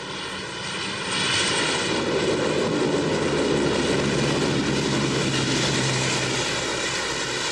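A C-130 Hercules propeller transport aircraft drones loudly and steadily, its engine roar swelling after the first second and holding as a broad, continuous rumble with a layered propeller hum.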